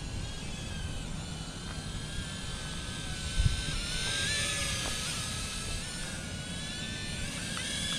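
A mini drone with LED lights flies indoors with a constant high-pitched propeller whine that wavers in pitch as it moves, moderately loud and steady, with a single soft bump partway through.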